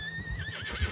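A horse in a video game, apparently a black horse, gives a short, loud neigh with a wavering, rising and falling whinny. A low thump from its movement comes at the end, and nobody speaks.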